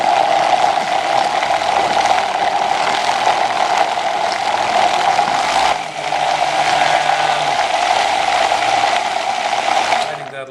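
A Vitamix blender runs steadily at high speed, blending cilantro into a sesame peanut sauce. Its loud, even motor whir lasts the whole stretch, with a slight rattling shake and a brief dip near the middle.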